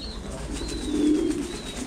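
Pigeons cooing on a Thai Titan meat pigeon farm, a soft low close coo swelling in the middle over faint background chirps and ambient farm noise, no talking.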